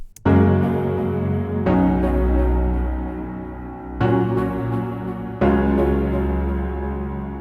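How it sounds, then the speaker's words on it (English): Stutter house production with a piano layered under a warm synth pad, sustained chords restruck about every one and a half seconds, loud and full with a deep low end and no voices. "Now I'll layer the piano with a warm synth on top as well."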